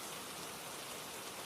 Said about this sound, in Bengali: ঝমঝমে বৃষ্টির শব্দ শুনতে শুনতে নেশা লেগে যায়